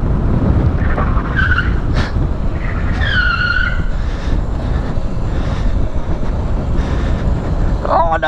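A car braking hard down a hill road, tyres squealing in short high whines over loud, continuous road and wind rumble from inside the vehicle.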